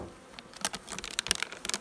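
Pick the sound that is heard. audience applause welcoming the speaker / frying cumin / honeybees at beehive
honeybees at beehive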